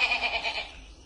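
A goat bleats in a German fairy-tale audio drama, a single wavering, nasal cry lasting about a second, close and fairly loud, fading out at the end with no talk over it.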